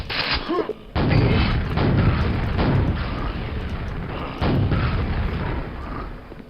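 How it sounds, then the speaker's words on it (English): Loud, overlapping booming blasts from rocket launcher fire and explosions in the shooter game Quake, coming in heavy rolling waves with barely a pause. "Early rocket launcher."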